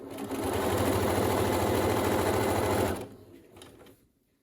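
A sewing machine runs a second seam along the folded edge of a homemade fabric face mask, a loud steady motor whir with rapid needle clatter for about three seconds, then stopping and fading out.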